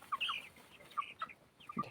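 Chickens cluck quietly in short, scattered calls, with several soft clucks spread over a couple of seconds against a faint background.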